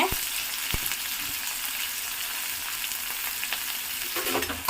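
Onion and green chillies frying in hot oil in a home kitchen, giving a steady close sizzle with scattered crackles and pops, a brief stir-like clatter near the end, no talking.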